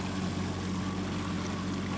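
A Quicksilver outboard motorboat runs on open water, a steady loud engine drone with wind and water rush continuing evenly throughout, with no voices.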